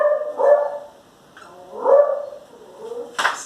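A dog barks in a few spaced bursts, fairly close, with quiet gaps between them.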